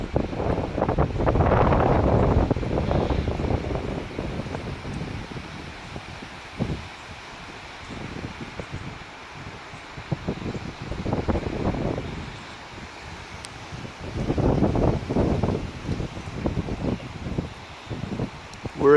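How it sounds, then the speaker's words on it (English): Gusting hurricane winds from Hurricane Florence's outer edge at Myrtle Beach, rising and falling in broad roaring surges, with strong gusts early and again near the end, wind buffeting the microphone throughout. "Here comes another gust."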